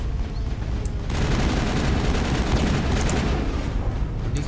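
Gunfire crackles through a Mass Effect battle: after a quieter opening second, dense, loud rapid shots and rumbling blasts pile up continuously, with no talking.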